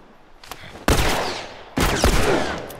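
Two loud gunshot bursts in The Last of Us on PS4, each a sharp blast with a decaying tail, spaced about a second apart.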